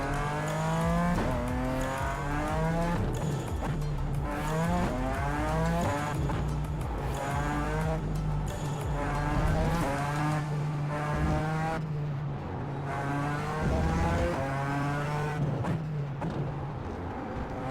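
Race car engines in a racing video game whine and rev hard, with repeated rising gear-change sweeps and a steady high drone over a continuous bed of game sound, no voices.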